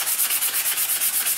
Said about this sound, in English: first what I'm doing is I'm sanding the inside of this